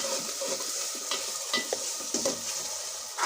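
Garlic and ginger paste stir-frying in a pan while cooking a duck curry, with a steady sizzle broken by soft scraping stirs of a spatula and no one speaking.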